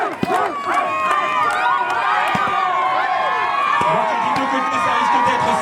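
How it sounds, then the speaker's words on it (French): An outdoor crowd cheers, shouts and claps at a race during a village summer festival in the French Alps, a dense continuous roar of voices with scattered whistles and children's shouts, and an announcer talks over it. "Terminé pour Christian, on applaudit Christian."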